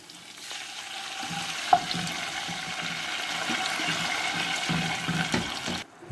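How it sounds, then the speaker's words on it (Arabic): Vinegar poured onto garlic in a hot pot hits with a loud, steady sizzling hiss that carries on for several seconds, then cuts off. "هنزل عليها بربع كوبايه خل"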